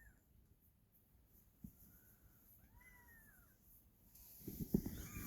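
A kitten gives a few soft, thin meows in a quiet room, the calls rising and falling in the middle of the clip, followed by brief rustling and handling noise near the end.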